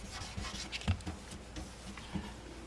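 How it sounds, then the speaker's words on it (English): Gentle rubbing strokes of block sanding a paint run flat in a clear coat finish, faint and close, with a soft rasping rhythm and a few slightly louder passes. "And we'll get this run block sanded flat."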